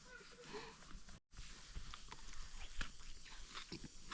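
Someone chews a mouthful of taco with cilantro, lime and homemade sauce outdoors, producing close, irregular crunching bites over several seconds, broken by a brief moment of silence.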